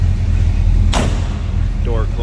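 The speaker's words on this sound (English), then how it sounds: "Door closes nicely." A door on a 1970 GMC C1500 Custom pickup shuts with a single sharp, solid thump about a second in, over a steady low rumble of the idling truck.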